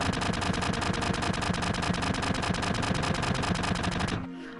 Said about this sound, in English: I'm dodging bullets